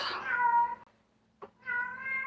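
A house cat in an apartment gives a long, loud, drawn-out meow up close, then after a brief pause and a soft click, a second sustained meow.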